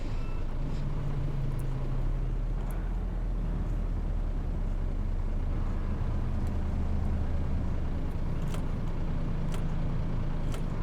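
Steady road traffic in Euro Truck Simulator, a low continuous engine and tyre drone of cars and trucks with a truck's motor humming nearby and passing vehicles faintly sweeping by, no talk.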